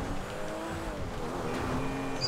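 Car driving off in the video game GTA V, a continuous engine drone with rising and falling tones and a hint of tire noise, steady and fairly loud with no talking over it.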